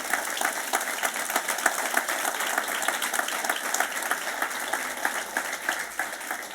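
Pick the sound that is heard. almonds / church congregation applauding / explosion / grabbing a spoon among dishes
church congregation applauding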